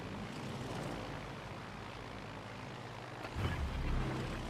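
Torpedo planes attacking in a naval video game: a steady droning roar of aircraft engines holds throughout, swelling into a louder, rougher pass near the end.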